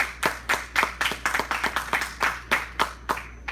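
A congregation at a church sermon claps in a slow, rhythmic, roughly evenly spaced beat, each clap distinct and fairly close, with no talking over it.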